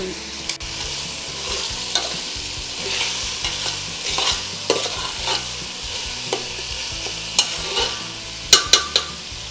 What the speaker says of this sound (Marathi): तर आपलं छान परतून झालेलं आहे टमॅटो आणि ते वाटण